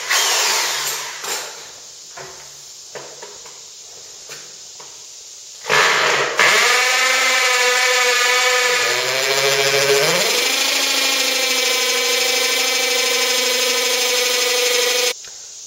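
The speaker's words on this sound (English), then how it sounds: "I'm going to use a hammer drill with a 1/2-inch masonry drill bit" A hammer drill with a half-inch masonry bit bores into concrete, starting with a few short bursts, then grinding loud and steady for about ten seconds with a shifting pitch.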